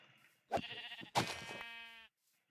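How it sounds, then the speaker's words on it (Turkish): Two close, clear sheep bleats from the video game Minecraft follow one another quickly, the second longer and wavering. Near-silence surrounds them. "çok fazla koyun sesi geliyor etrafta"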